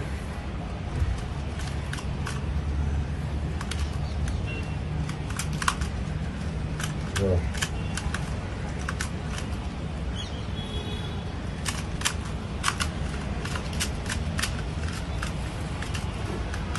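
A Rubik's cube is turned rapidly, giving sharp plastic clicks in quick irregular bursts over a steady background hiss, with occasional louder snaps.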